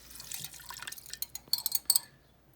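Liquid is poured into a cooking pot in a home kitchen for Nikkei beef, a soft splashing and dribbling run of small drips and trickles that grows busier, then stops.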